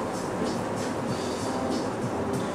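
Steady low rumbling drone of a lift car in motion, continuous and unbroken with a faint mechanical hum, heard from inside the cabin throughout.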